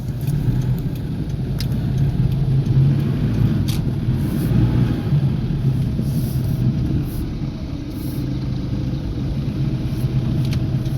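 A car engine hums at a steady, loud, low rumble while driving on a road in Laos, with no talking.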